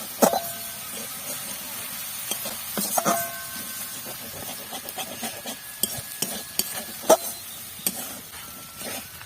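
A spoonful of flour being stirred into a sizzling spring onion mixture for paratha bread, with scattered metallic scrapes and taps of the utensil against the pan over a low frying hiss.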